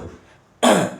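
A woman imitates a child's cough with her voice: a short hush followed by a single loud, rasping throat-clearing burst that tails off.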